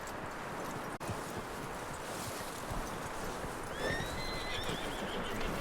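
A horse in the video game Red Dead Redemption 2 whinnies in a high, wavering call over a steady background of rustling and low ambient noise.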